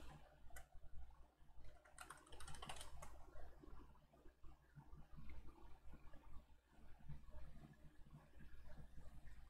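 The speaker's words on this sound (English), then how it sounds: "you got to type in sudo make install" Faint, quick keystrokes on a computer keyboard as a command is typed into a Linux Mint terminal, a soft pattering run of clicks in a quiet room with no speech.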